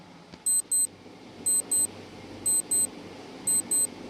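A quiz countdown timer sounds as repeated pairs of high electronic beeps, one double beep each second, bright and clear over a quiet background hum.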